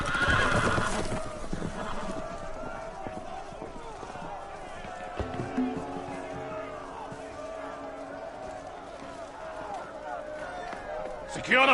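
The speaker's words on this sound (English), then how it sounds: "The horses! They're loose!" Horses running loose whinny loudly at the start, then hooves clatter and scrape on and off among rustling and a faint crowd-like background.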